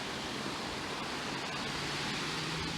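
A waterfall in Como Lake Park in Lancaster, New York gives off a steady broadband rush of falling water, continuous and fairly loud throughout with no pauses.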